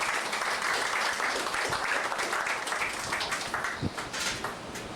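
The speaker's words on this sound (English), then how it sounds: "give her a round of applause" Sustained applause from an audience at a 2006 tribute event for Queen Adilah Sharif, an even, crackling roar of many hands clapping at once that carries steadily from start to finish.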